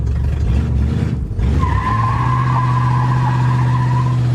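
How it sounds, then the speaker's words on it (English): Ford Galaxy doing a burnout, a loud steady engine roar with a sustained high tire squeal that sets in after a brief dip and holds to the end, close by. "It does burnouts."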